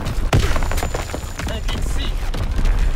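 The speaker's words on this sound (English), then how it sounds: "Firing primary battery." Naval primary battery artillery fire in Call of Duty WWII on the Pointe du Hoc map, heavy booming thuds and crackling impacts layered over dense battlefield noise with a radio voice speaking throughout.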